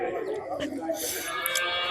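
A cow moos at the Vaniyamkulam cattle market, a drawn-out low call amid market bustle, with people talking nearby.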